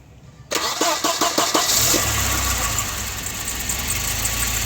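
A Volvo 940 turbo is started with its key: a quick rhythmic cranking of about five strokes catches into a loud, rough engine that settles into a steady idle nearby.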